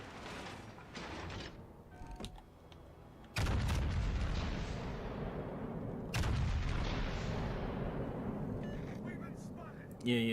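Heavy naval guns boom from a warship's rear turret in World of Warships Legends, two big loud blasts several seconds apart, each trailing into a long rumbling decay, with fainter mechanical clanks between them.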